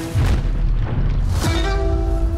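An old firearm fires a single deep, booming shot midway through, loud and close, against a rumbling background with no speech.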